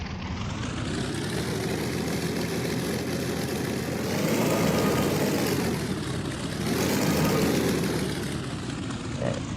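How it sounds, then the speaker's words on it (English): A propeller aircraft engine in the X-Plane flight simulator runs loud and steady, swelling twice as it revs up and then eases back, with no voices. "Let's run the engine up so you can hear how it sounds."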